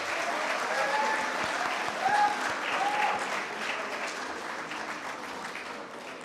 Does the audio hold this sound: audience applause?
yes